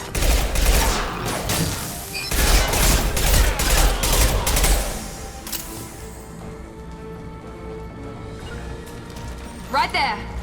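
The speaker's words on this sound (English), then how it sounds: "Taking fire!" Gunfire in the video game Mass Effect 2 crackles in dense, loud bursts for about five seconds, then drops to a quieter background bed, with a voice speaking over the shooting.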